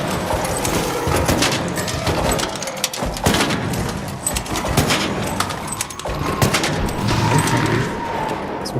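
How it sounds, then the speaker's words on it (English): Rapid bursts of gunfire in the video game Arc Raiders, loud and close, with sharp shots and rattling volleys clustered through the passage alongside clattering metallic effects. "Start shooting here."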